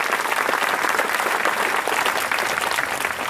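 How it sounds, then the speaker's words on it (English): Steady, dense applause from a crowd at a military ceremony honoring NCOs fills the whole stretch at a constant loud level. "Round of applause."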